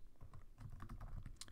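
Quick, light clicking of keys on a computer keyboard while writing Python code, a short burst of faint close taps with no talking.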